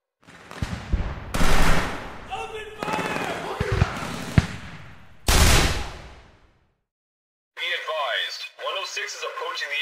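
Gunfire and explosions from the Trepang 2 video game burst in loud, sharp volleys over radio chatter, then fall silent before filtered radio voices return.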